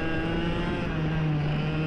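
A racing kart engine holds a steady, high-pitched drone at close range during an overtake on another kart, fairly quiet overall and with no voices.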